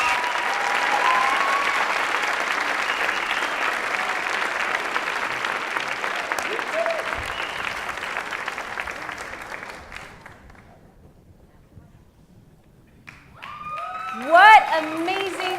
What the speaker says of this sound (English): One more round of applause for our extraordinary finalists.